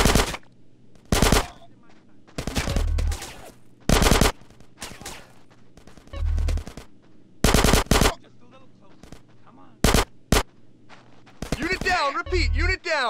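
Bursts of automatic gunfire from a Grand Theft Auto: San Andreas shootout, loud clustered volleys repeating every second or two with brief quieter gaps, and in-game voices shouting between them.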